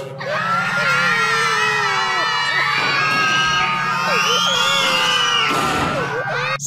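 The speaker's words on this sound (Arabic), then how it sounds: "اسمع صوت الولاد" A crowd of children shouting and cheering fills the whole stretch, loud, dense and continuous, with excited high voices overlapping throughout.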